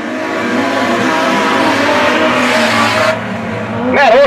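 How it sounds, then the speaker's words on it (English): An outlaw sedan race car thrown sideways during a dirt-track heat: a loud, rising engine roar with wavering pitch, then a sharp cut and a burst of revving and tire noise. A commentator talks over it. "Matt Hawking throws the car sideways."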